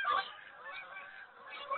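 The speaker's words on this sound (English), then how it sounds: "I'm just waiting for the geese to go by." Faint, repeated honking of geese overhead, a steady run of nasal calls drifting by at a distance.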